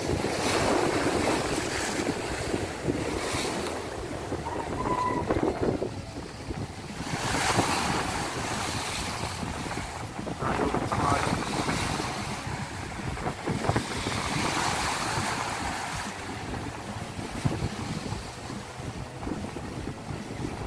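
Storm-driven sea waves surge and break continuously along the coast during Typhoon Quinta, with strong wind buffeting the microphone in a loud, steady roar that swells in several gusty peaks.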